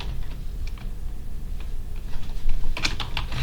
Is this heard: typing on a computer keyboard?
yes